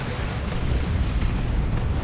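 Whirlwind artillery shells exploding in a Dawn of War 2 3v3 battle, a dense rumbling barrage of booms rolling continuously with no pause, loud and low, no speech over it.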